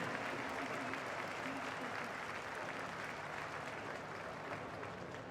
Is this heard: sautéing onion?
no